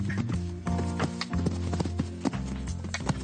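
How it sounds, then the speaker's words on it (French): Hooves of a three-year-old foal during its first jumping session, a steady rhythmic clip-clop of trotting or cantering on the ground, close and clear with low background noise. "C'est à l'âge de 3 ans que le poulain entame sa première séance de saut."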